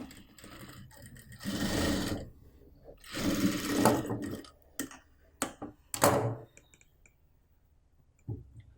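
A sewing machine stitches a front-slit kurti in several short runs, whirring loudly for a second or two at a time with clicks and pauses between bursts, close and without talk.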